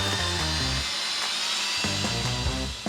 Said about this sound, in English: drill through the shims to secure